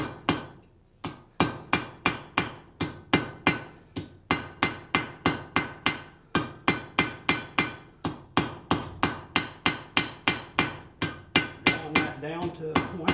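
Hammer striking a hot horseshoe on an anvil to draw it to a point, a long run of loud, ringing metallic blows in a fast, steady rhythm with brief pauses between bursts.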